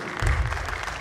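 A brief burst of audience clapping at a Dev Anand song show, loud and close, starting abruptly and holding for about a second.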